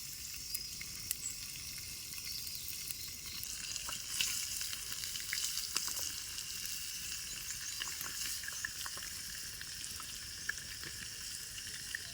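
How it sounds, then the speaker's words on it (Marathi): Fresh tilapia fish fry in a hot frying pan outdoors on a farm, giving a steady, dense sizzle and crackle that runs unbroken from start to finish with no one talking. "बघा मस्तपैकी फ्राय होतात आणि आपण मस्त आपली पेटलेली आहे फ्राय पॅन आहे"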